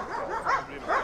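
Military working dogs at a German army training area, with short yipping barks and whimpers in two or three quick bursts, fairly close and moderate in volume.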